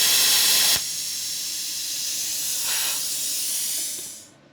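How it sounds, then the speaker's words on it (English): Cooling fan of a BestARC BTC500DP plasma cutter blowing air, heard as a bright, steady hiss that begins with a louder burst, settles into a broad rush with a brief swell, then fades away at the end. "So when we pull the trigger, the fan comes on. It's got a fan back there, it's blowing to keep the machine cool."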